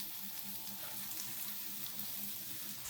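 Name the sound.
onions frying in a pan for Kerala squid thoran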